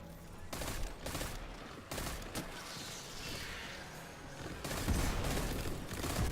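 Rapid gunfire in the shooter video game Destiny 2, dense continuous bursts of shots rattling over a busy background, fairly faint and steady with short pauses between volleys.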